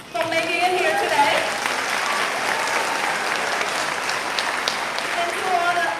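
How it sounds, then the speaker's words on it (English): A graduation crowd at a class of 2023 ceremony breaks into loud, sustained applause, dense clapping filling the hall while a voice is heard faintly at the edges. "I want us to give a big applause to ourselves for making it here today"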